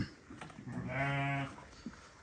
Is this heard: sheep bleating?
yes